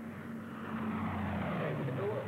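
Propeller airplane motors rolling by in a 1944 wartime film scene: a low, steady droning engine hum with a faint rising pitch as the plane passes, while someone talks over it.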